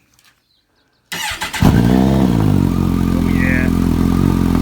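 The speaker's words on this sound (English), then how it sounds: "ever starting of this on my bike." A Kawasaki Concours 14 ZG1400 motorcycle fitted with a Delkevic DS70 carbon slip-on muffler cranks briefly, then fires up and settles into a loud, steady, deep idle close by; a voice speaks briefly.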